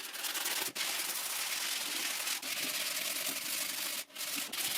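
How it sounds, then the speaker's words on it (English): Sandpaper of medium and fine grit rubs steadily over a heart-shaped wooden box, a close, continuous scratchy hiss broken by a few short pauses between strokes. "I sand everything with medium grit and with fine grit sandpaper."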